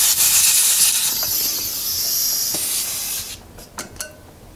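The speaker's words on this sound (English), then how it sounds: "We've just demonstrated how the donor hose can be used to blast the sidewalls on a tubeless tire out against the rim" A donor hose blasts air into a tubeless tire to force its sidewalls out and seat the bead on the rim: a loud, continuous, close hiss for about three seconds, then it cuts off, leaving a few sharp clicks.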